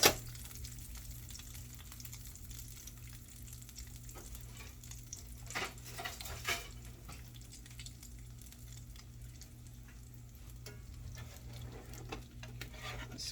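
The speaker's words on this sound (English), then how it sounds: "scrape up some of these brown bits here, because if I don't, might be in fear of it burning in the pan" A utensil scrapes browned bits from a pan while pork backstrap fries, steady sizzling under a few soft scrapes and clicks, fairly quiet with a constant low hum beneath.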